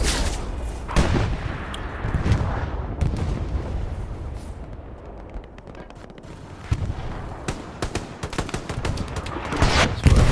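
Heavy World War II gunfire in the console shooter Hell Let Loose: dense, continuous rifle and machine-gun bursts mixed with sharp nearby cracks and louder blasts, loud throughout with no voices.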